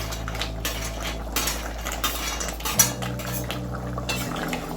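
Spoon and metal pot clatter and scrape as fried lentil dumplings go into a cauliflower curry, with close, sharp clinks and stirring over a low steady hum.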